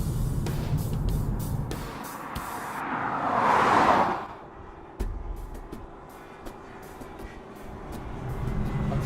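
Infiniti G37S on the road, heard from a moderate distance: faint tire and engine noise with a whooshing pass-by that swells and fades in the middle, followed by quieter road rumble.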